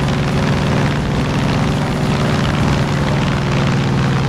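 The airplane engine in Far Cry 5 drones loudly and steadily with a throbbing propeller hum. It is close and continuous, with no talking over it.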